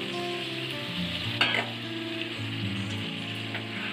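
A spoon stirs tomato pieces into a drumstick and potato curry in a pan, with soft scraping and a steady sizzle close by and no voices.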